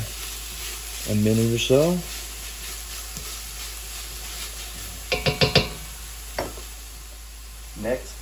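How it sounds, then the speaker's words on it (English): Garlic puree sauteing in a pan as part of a Bloody Mary mix with bacon, giving a steady low sizzle with utensil knocks and stirring, while a voice talks over it at times. "Next, I like to add some garlic puree. We'll go ahead and saute that for"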